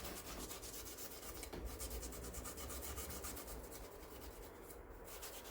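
A soapy cloth rubs across a wooden grater practice board in quick, rhythmic back-and-forth strokes, faint and close, with no talking.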